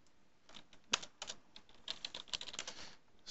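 Fingers tapping out a file name on a computer keyboard, a quick uneven run of light clicking keystrokes close by, fairly quiet and without any talking.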